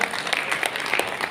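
An audience at a Microtek inverter launch event in a New Delhi hotel applauds, with a soft, steady wash of many clapping hands heard at a distance.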